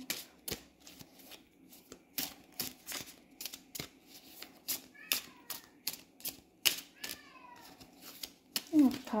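A tomcat lets out several short meows amid a steady run of sharp clicking taps close by, with a louder cry near the end.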